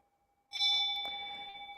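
A single clear strike on a meditation bell during Buddhist sutra chanting rings out bright and close, then sustains a long shimmering tone that slowly fades, with no voices over it.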